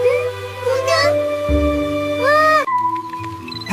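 A cartoon kitten in an animated show lets out several drawn-out, pitch-bending meows, loud and up front, with a music-like backing underneath.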